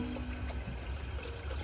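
A clogged toilet slowly draining on its own, a steady low trickling and gurgling water sound running continuously at close range.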